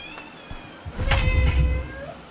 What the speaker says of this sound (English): Hey, kitty, kitty.